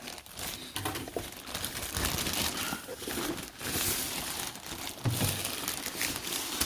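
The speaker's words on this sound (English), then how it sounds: "Cut the bag open." A plastic bag wrapping an Amazon-bought projector is cut open and handled during an unboxing, producing close, continuous crinkling and rustling with a few louder crackles.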